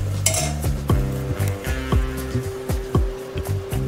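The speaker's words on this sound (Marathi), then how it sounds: "आता आपण मटार टाकूया" Peas tumble into a pan of fried spices, bringing a run of close metal clinks and scraping stirs against the pan with a faint sizzle underneath, all loud and busy.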